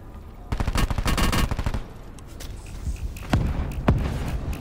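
Rapid automatic gunfire in Call of Duty Blackout: a loud burst of quick shots at close range, then a pause and two or three sharper single shots amid scuffling footsteps.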